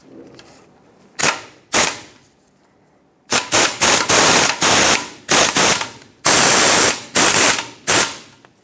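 Ratchet tightening the tie rod bracket bolt on a 2008-2010 Ford F250 Super Duty, loud close clicking bursts: two short runs, then a dense series of rapid ratcheting strokes separated by brief pauses.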